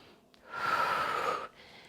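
One long, close, audible breath drawn in through the nose during a bike-fit stretching exercise, rising sharply and holding for about a second before it stops.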